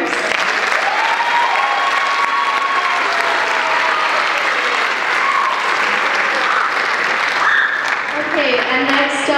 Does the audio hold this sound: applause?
yes